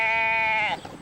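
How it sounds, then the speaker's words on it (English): A single sheep bleats loudly and close during shearing, one sustained wavering cry that fades out quickly at the end, with no talk over it. "So tell me, Braid, how bad am I at shearing sheep?"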